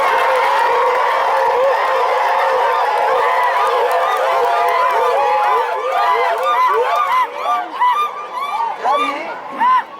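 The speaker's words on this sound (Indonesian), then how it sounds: "Boleh tepuk tangan Bapak Ibu sekalian." A crowd at a political volunteer meeting in Papua cheers loudly, with a continuous roar of many voices, shouts and whoops that grows more ragged toward the end, and faint clapping mixed in.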